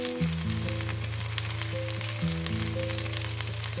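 Okra with onion, tomato and coriander powder sizzles and fries in a pan for bhindi masala, a constant crackling hiss under steady background music.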